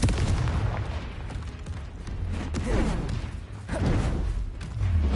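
Booming blasts from the fire-exploding Confringo spell in the game Hogwarts Legacy, heavy low rumbles repeating amid dense combat noise with no talk.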